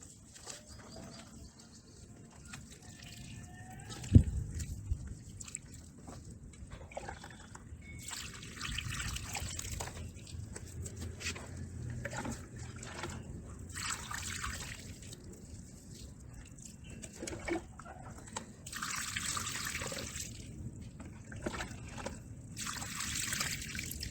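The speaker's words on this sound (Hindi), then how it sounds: "तो देखिए किस तरह से यह पानी मिलाते ही कोकोपीट टूट रहा है।" Water trickles and splashes gently over a block of cocopeat on a terrace garden, a faint intermittent pouring rising and falling in soft bursts, with birds calling quietly in the background.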